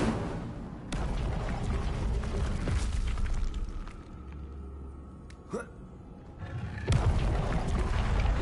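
A fire spell, Incendio, goes off in a Harry Potter game on PS5: a deep booming whoosh with a short rising flare near the middle and a crackling burst toward the end, set against steady game ambience.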